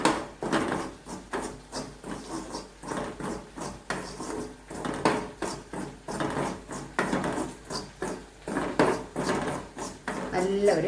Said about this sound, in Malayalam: ഇത് എണ്ണയിൽ ഇങ്ങനെ ഒന്ന് ഇളക്കി എടുക്കുമ്പോൾ നല്ലൊരു മണമാണ്